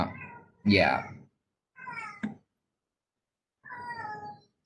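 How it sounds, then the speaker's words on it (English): A domestic cat meows close by, with three drawn-out, wavering calls separated by pauses, and a person briefly speaks between them. "Not sure what my cat wants."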